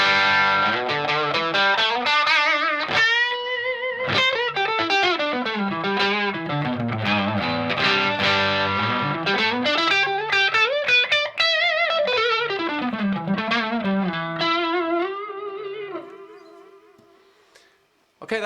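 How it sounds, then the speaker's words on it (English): A crunchy, overdriven electric guitar plays chords and melodic runs through a Boss Katana amp on its crunch channel, steady and loud, fading out near the end. "the Boss Katana with the crunch channel on that one"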